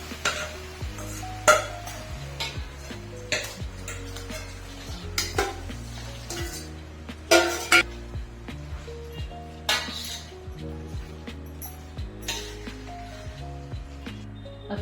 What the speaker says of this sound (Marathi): त्याच्यात आता आपण शिजलेली डाळ आणि गूळ घालून एकत्र करूया।